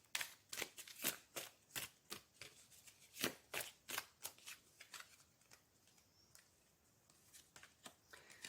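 A deck of oracle cards being shuffled by hand, a rapid series of crisp riffling clicks and slaps, close and clear, easing off briefly before resuming.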